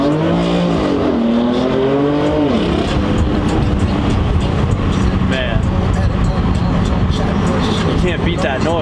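A 2018 BMW M3 Competition engine revs hard under acceleration, the pitch sweeping upward then settling into a strong, sustained drone, close and loud, with someone talking over it.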